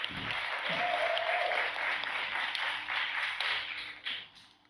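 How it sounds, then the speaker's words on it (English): An audience applauds the cast at a reunion show, a broad, sustained wash of clapping that swells and holds, then tapers off near the end. "Can we have a huge round of applause for the cast"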